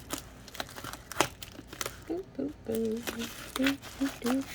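Crinkly plastic being torn and crumpled in short bursts, close by, while a person talks over the rustling.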